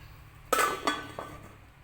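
A lid set onto a pot of boiling water while cooking lontong: two or three close metallic clinks and clatters, the first the loudest, with no talking.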